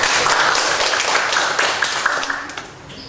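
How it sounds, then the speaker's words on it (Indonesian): A burst of applause at a communication training session, many hands clapping steadily at moderate loudness, gradually thinning and fading toward the end. "Tepuk tangan untuk kalian semua"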